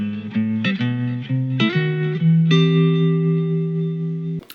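A guitar plays ii-V-I chords that harmonize a busy walking bass line, with quick chord changes that settle into one long, ringing final chord.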